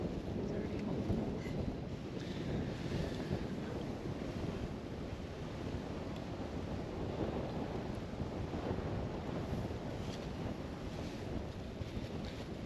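Wind blowing steadily across an island campsite, a continuous rushing roar with gusty buffeting against the microphone that lasts throughout, with no voices.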